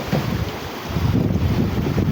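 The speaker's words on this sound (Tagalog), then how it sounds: "unti-unti na pong lumakas ang hangin mga idol" Strong wind blows at sea around a small service boat, a continuous roaring, buffeting rush over the microphone with no breaks.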